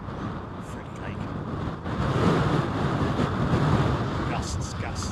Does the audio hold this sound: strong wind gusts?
yes